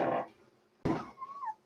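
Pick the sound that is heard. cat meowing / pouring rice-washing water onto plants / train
cat meowing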